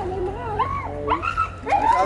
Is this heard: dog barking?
yes